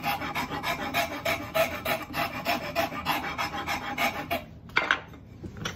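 Fine carving tool scraping steadily across a wooden spoon, a close, rhythmic rasping of repeated strokes that stops near the end with a few lighter scrapes.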